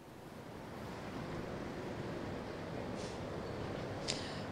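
Water cascades off a footbridge walkway on the Pedro Ivo bridge in Florianópolis after heavy rain, a steady broadband rushing roar heard outdoors with some wind, constant throughout.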